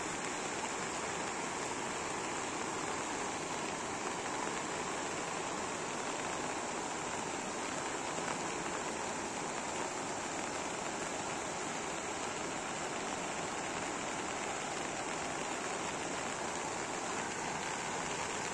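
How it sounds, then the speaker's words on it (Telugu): Heavy rain pouring over farm fields, a steady broadband hiss of downpour that holds even and unbroken throughout at moderate distance. "మా ఏరియా అయితే చాలా పెద్ద వర్షం వస్తుంది ఫ్రెండ్స్."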